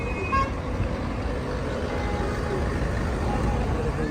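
Steady roar of busy street traffic near the Bengali market in Madinah after Friday prayers, with a brief car horn toot early on and a constant dense rumble of vehicles and crowd.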